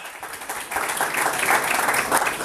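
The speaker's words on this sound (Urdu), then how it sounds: "زوردار تالیاں بجائے" Church congregation at a live Palm Sunday service breaks into loud applause, a dense rolling wash of many hands clapping that swells and stays strong throughout.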